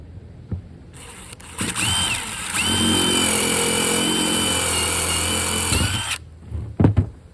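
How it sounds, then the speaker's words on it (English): A power drill whirs up, boring a 1/8-inch hole in a vinyl deck railing, runs steadily for about four seconds at a high whine, then stops, with a few clicks and knocks before and after. "You're going to want to put a drill hole"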